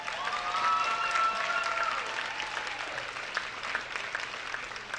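A theatre audience at a stage show applauds, with steady clapping from a moderately distant crowd and a few faint voices and whistles mixed in.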